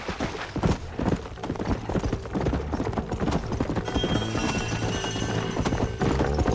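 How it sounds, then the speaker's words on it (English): Rapid hoofbeats of horses galloping in a steady clattering rhythm in the video game Red Dead Redemption, with some music and game ambience underneath. "Where's my horse? Mount up, Marston."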